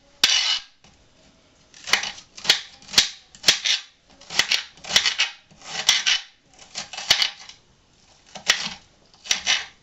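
Sharp, rapid knife chops on a cutting board as cabbage is cut into pieces, arriving in close repeated bursts of crisp strikes with brief pauses between, loud and near with no talk.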